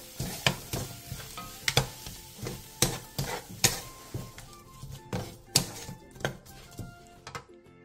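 Cucumber stir-fry tossed in a pan with perilla oil, scallion, red chili and sesame seeds, giving repeated sharp scraping and clinking strikes of utensil on pan over a light sizzle, close and steady in rhythm.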